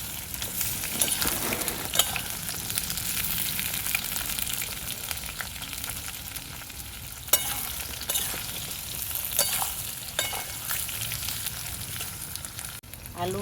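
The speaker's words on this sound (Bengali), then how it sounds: "বেগুনটাকে আলুর সাথে এইভাবে ভেজে নেব আলু বেগুন আমি এইভাবেই ভালো করে ভেজে নেবো" Eggplant and potatoes frying together in oil for a Bengali fish curry, a steady close sizzle with occasional stirring scrapes and clicks running throughout.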